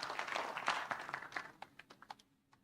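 Applause for a presenter at a maritime day afternoon session, a brief dense burst that quickly thins into a few scattered, separate claps before fading.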